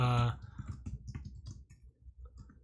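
Quick, irregular clicking of computer keyboard keys typed while coding, close and fairly loud, with a short burst of talk at the very start.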